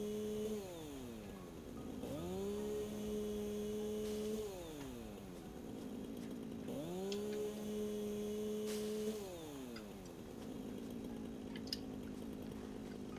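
A chainsaw in the factory-building video game Satisfactory, its engine note swooping up and down in repeated revving cycles, moderately loud and steady with a low hum beneath and no talking.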